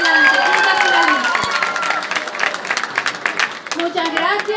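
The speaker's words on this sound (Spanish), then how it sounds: "Un aplauso para ella" Applause and cheering from a crowd at a pageant finalist announcement, dense and lively, with voices calling out over the clapping throughout.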